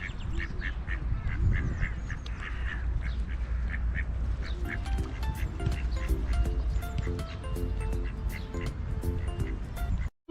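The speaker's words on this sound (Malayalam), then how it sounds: "കുറേ താറാവുകൾ ഇങ്ങനെ വെള്ളത്തിൽ കൂടെയൊക്കെ കളിക്കുന്നുണ്ട് കേട്ടോ" Ducks on a lake in a park in Germany quack repeatedly in quick, overlapping bursts at moderate distance, with steady outdoor background noise and voices underneath.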